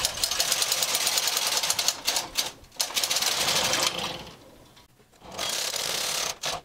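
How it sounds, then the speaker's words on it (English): Brother 260 bulky knitting machine knitting rows back and forth: repeated close mechanical sliding and rattling passes of the carriage, each lasting a second or more, separated by brief pauses and one longer quiet gap. "now we can continue knitting back and forth"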